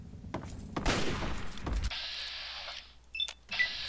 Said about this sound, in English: That's a shotgun shot in your angry face.